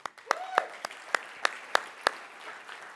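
A church congregation claps for volunteers at a Sunday service closing vacation Bible school. The claps come as sharp, fairly regular hits about every third of a second over a soft crowd murmur.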